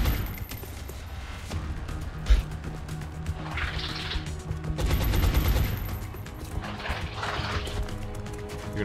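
Suppressive gunfire in XCOM comes as heavy repeated bursts with booming impacts, loud and near, separated by quieter stretches of game ambience.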